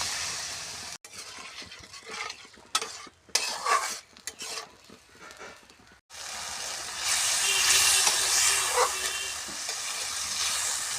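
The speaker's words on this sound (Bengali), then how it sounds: "ভালো করে মশলাটাকে কষিয়ে নেব সামান্য একটু জল দিয়ে দেবো" Spice masala being fried and stirred in a pan with a little water: scraping spoon clatter and bursts of hiss first, then a louder, steady sizzle swelling up after the water goes in.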